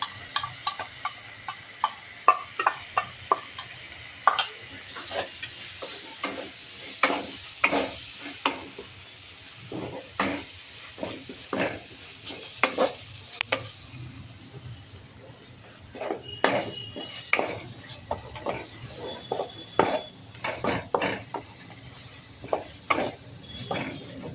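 Chopped fried egg being stirred into spiced masala in a pan for egg tadka, with repeated sharp scraping strokes of a spatula over a steady low sizzle, close and fairly loud, with no talking.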